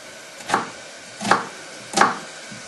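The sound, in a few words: knife cutting a halved onion lengthways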